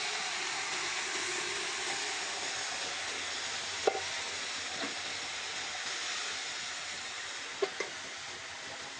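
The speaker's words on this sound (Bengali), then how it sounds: "এখন আমি এই চর্বি আর কলিজার মিশ্রণটা" Goat fat and liver mixture frying in a pan with browned onions and garam masala, giving a steady close sizzle with a few faint stirring knocks and no talk.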